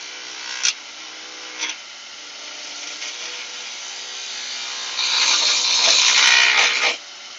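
A chisel carves a wobbly, structurally unsound piece of timber for a small Christmas tree decoration. Close, steady scraping hiss, with two sharp knocks early on and a louder, rougher rasping stretch near the end.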